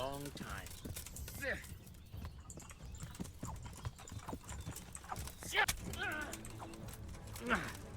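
Horse hooves clip-clop in uneven rhythmic bursts during a medieval combat video game, mixed with neighs, clashing effects and a voice talking over the action.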